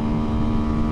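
A 2023 Honda Super Cub C125 revs hard against its rev limiter in second gear, giving a brief, loud, steady buzzing engine note with no speech.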